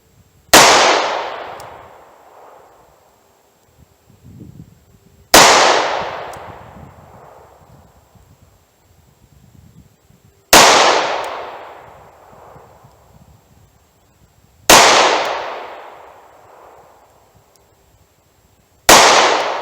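.38 Special gunshots from an Inceptor ARX revolver firing Super X jacketed hollow point rounds at a range, five loud sharp reports spaced about four to five seconds apart, each with a decaying echo tail.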